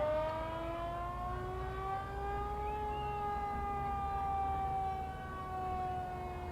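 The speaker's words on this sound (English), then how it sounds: "It's teasing us. The siren wants to go off." Siren on a restored 1968 fire engine at a Christmas parade, a steady wailing tone that holds and slowly bends in pitch for several seconds, loud and close over a low crowd murmur.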